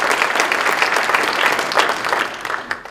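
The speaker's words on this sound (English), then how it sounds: "Can we just get a round of applause for those two, please?" A crowd at a city inauguration ceremony applauds departing council members, steady dense clapping filling the whole moment at close range.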